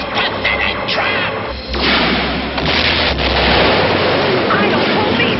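Loud, roaring particle beam cannon blasts from the Dino Riders cartoon, with booming explosions crashing continuously, close and heavy, and voices shouting underneath.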